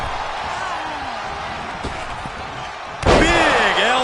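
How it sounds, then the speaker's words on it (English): A heavy elbow drop lands in the WWE 2K25 wrestling video game with one sharp, loud slam, followed at once by a swelling crowd roar over steady arena background and commentary. "Big elbow drop."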